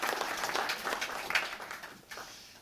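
An awards-ceremony audience applauds award winners, a dense spread of many hands clapping at moderate distance, steady then tapering off toward the end, with no speech over it.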